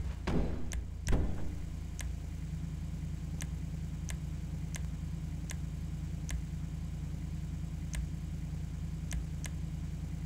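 A car engine in GTA 5 idles steadily at low volume, a smooth constant hum with faint regular ticking above it and a couple of brief knocks near the start, no voices.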